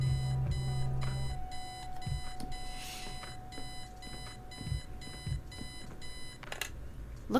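An alarm clock beeping in the video game Kathy Rain, a rapid regular series of electronic beeps repeating steadily across the whole stretch, loud and close and with no voices over it.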